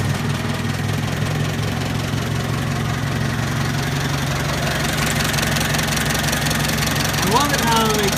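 A big engine idles in a small old tractor, a steady loud low rumble with a knocking mechanical texture, close up, running evenly throughout, with a brief higher squeak near the end.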